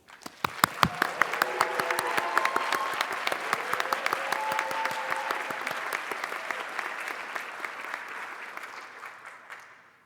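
A graduation audience applauds its awardees, steady clapping from a large crowd that swells quickly, holds for several seconds, then gradually thins out and fades.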